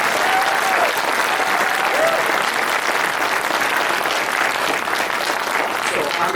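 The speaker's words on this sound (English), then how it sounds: "A big round of applause." Steady, dense audience applause fills the room throughout, a sustained wash of many hands at a community history presentation on South Streeterville, with a faint voice briefly audible near the start.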